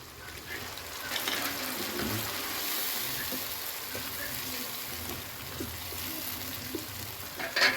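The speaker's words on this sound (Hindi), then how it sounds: "अब इसमें थोड़ा सा पानी ऐड करेंगे।" A little water added to potatoes, carrots and peas frying in a pan sends up a broad hissing sizzle that holds steady at moderate level, with a brief clatter near the end.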